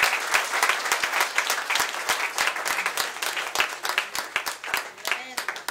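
A church congregation applauding during a worship service, with dense, lively clapping throughout and voices speaking over it.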